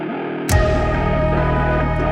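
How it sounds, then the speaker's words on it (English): A heavy tom drum hit lands in a metal breakdown, striking sharply after a short lead-in and giving way to a dense, distorted sustained wash of sound that rings on for the rest of the moment. "you can hear we have that drum hit on the toms"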